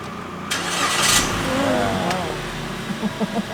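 A click of a push-button start, then a car engine cranks and catches, settling into a low idle close by, with a voice speaking over it.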